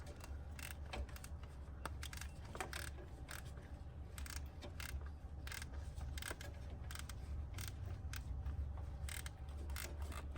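A small ratchet turns a bolt on a 2015 VW Jetta 1.8 during a water pump and thermostat housing job, giving repeated quick clicking strokes in an uneven rhythm over a steady low background hum.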